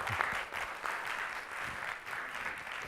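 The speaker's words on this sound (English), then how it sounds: "Can I have a round of applause again?" Audience applause at an expert speakers session of a Toastmasters conference, a steady patter of clapping filling the room throughout, moderately distant and fairly quiet.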